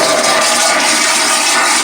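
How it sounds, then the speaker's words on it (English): A Headhunter Royal Flush porcelain toilet in a converted bus flushes by water pressure and siphon, giving a loud, steady rushing wash of water up close for about two seconds. "You'll find the Headhunter Royal Flush porcelain toilet."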